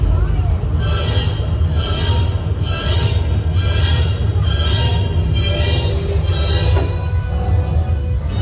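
A Universal Studios tram rolls along its ride route, a steady rumbling hum with faint rhythmic rail-like clatter and a squeal, running continuously.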